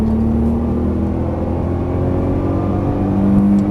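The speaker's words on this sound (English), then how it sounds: "Squeeze that throttle, squeeze it fast as you can." A Nissan GT-R under full throttle on a track gives a loud, continuous engine roar from inside the car, with a rising tone and a brief higher note near the end.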